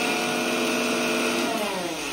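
A household electric mixer grinder whirs at full speed grinding masala with garlic, a loud, steady, high-pitched motor drone with no breaks, no one speaking.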